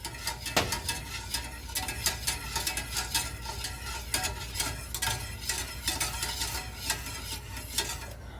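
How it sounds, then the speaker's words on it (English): Homemade turkey gravy is stirred steadily in a pan as it thickens, with continuous close scraping and clinking of the utensil over a gentle bubbling sizzle, busy and rhythmic with no voices. "you keep stirring it until it reaches the desired thickness"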